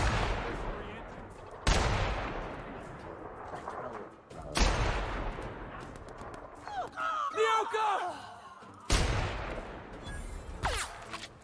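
Sniper fire in The Outer Worlds: three sharp, loud gunshots a few seconds apart, each with a long echoing tail, amid combat noise and shouting voices.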